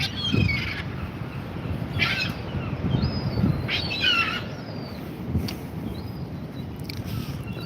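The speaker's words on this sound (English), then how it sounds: "They're amazing, the gulls, they really are." Gulls on a seaside promenade squawking and scrapping, several sharp calls over steady wind and surf noise, fairly distant and moderately loud.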